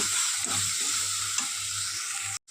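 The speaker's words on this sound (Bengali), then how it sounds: "তো চলো একটু কষিয়ে নিয়ে" Ground coriander, chilli powder and turmeric are sautéed in a pan, producing an even, close frying hiss with a couple of soft stirring scrapes before it cuts off abruptly near the end; no voices.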